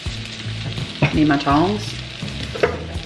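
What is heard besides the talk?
beef frying and being turned in a pan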